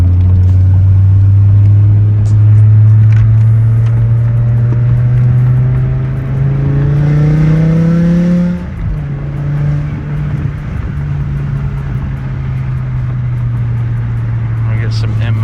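A BMW E60 M5 V10 engine drones loudly and steadily, heard through an open window, its pitch climbing gradually as it revs up, then dropping and settling into a lower hum.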